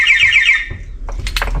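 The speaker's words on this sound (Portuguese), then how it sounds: "Tá dando um alarme." A vehicle alarm, set off from a key fob, sounds in rapid high beeps for half a second, followed by a few clicks and faint rustling nearby.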